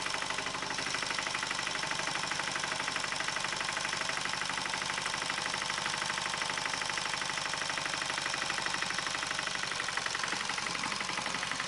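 A loaded tractor's engine runs steadily and loud throughout, a continuous rapid knocking chug with no voices over it.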